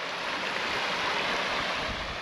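A small clear mountain stream on the route between Pang and Hanle flows with a steady broadband rush of water, blended with wind noise on the microphone.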